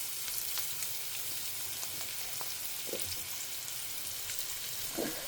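Onions sauté in a hot pan with salt, giving a steady close sizzle with faint scattered crackles and occasional soft stirring scrapes, with no talk over it.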